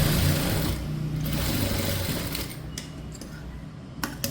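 A sewing machine stitches a garment in a steady whirring run that slows and fades, followed by a few light clicks and taps from the machine.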